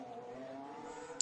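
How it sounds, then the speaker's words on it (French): A Formula 1 car engine at Monaco during a practice session gives a faint, steady droning hum that stays distant and low throughout, with a brief sharp tick near the end. "Ah, j'entends un bruit de moteur."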